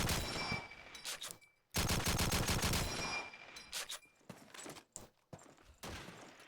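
Rapid bursts of M1 rifle fire in a Call of Duty 2 competitive match, loud, close volleys separated by short gaps, then scattered sharper single shots and fainter distant fire.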